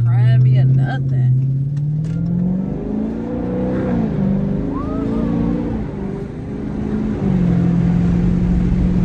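Dodge Charger 392 Daytona engine rumbling steadily up close, a low throaty note that swells and settles as it revs, with someone talking over it.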